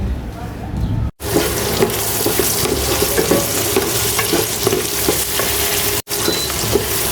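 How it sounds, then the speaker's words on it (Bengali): Onion, chili, cinnamon, clove and bay leaf frying in oil for khichuri, a steady close sizzle and crackle with occasional stirring scrapes, continuous apart from two brief cuts. "খিচুড়ি রান্না করার জন্য যে পেঁয়াজ, মরিচ, তারপর দারচিনি, লবঙ্গ, তেজপাতা এগুলো ভাজা নিতেছি"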